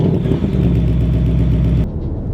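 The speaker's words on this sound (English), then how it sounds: "And even from startup, the sound is just amazing." A Ford Mustang GT with the optional sports exhaust starts from the push button and settles into a loud, deep, close idle rumble that stops abruptly near the end.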